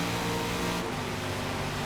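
A Corvette race car in Forza Motorsport on a wet Road America circuit, its engine holding a steady loud drone near the listener and shifting in pitch partway through, with spray and road hiss underneath.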